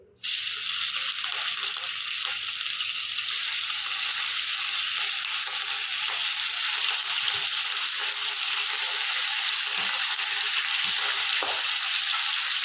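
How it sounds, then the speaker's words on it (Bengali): Fish pieces frying in hot, smoking oil for a Bengali-style fish curry, a steady loud hiss and crackle that holds without a break for the whole stretch, with no voices. "এবার মাছগুলোকে লাল লাল করে ভাজা করে নেব।"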